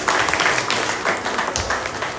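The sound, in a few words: audience applause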